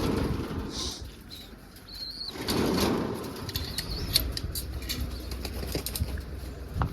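Pigeons' wings flap in short bursts close by in a loft, with faint chirps and outdoor noise around them.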